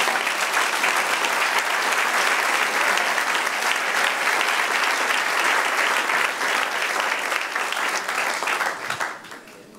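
A church congregation bursts into loud, sustained applause that fills the room and fades out near the end, with no speech heard over it.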